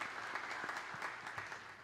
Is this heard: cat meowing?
no